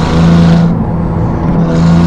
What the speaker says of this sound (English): You guys hear the turbo whistles?